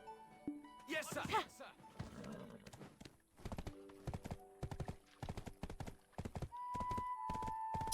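Horse hooves clip-clop in rapid rhythmic bursts in the video game Black Desert Online, following a neigh early on, with a game voice and background music underneath.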